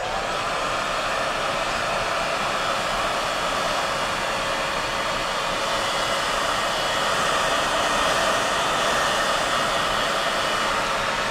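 A heat gun or hair dryer heat-sets paint on a Strike King 4.0 fishing lure, producing a loud, constant blowing whoosh that holds steady throughout.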